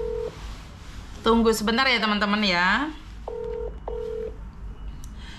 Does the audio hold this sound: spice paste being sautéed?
no